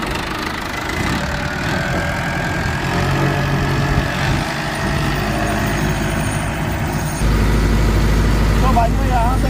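A tractor engine idles and runs steadily while GPS automatic steering guides it, a loud low drone with someone speaking over it and the engine swelling louder near the end.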